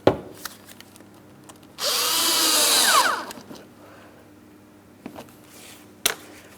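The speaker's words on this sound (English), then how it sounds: "then we're going to tighten our 8mm headed clamp." Power drill tightening an 8mm headed clamp on the air filter housing of a 2003-2007 Cadillac CTS, a single loud whirring burst of about a second, with faint clicks and handling knocks around it.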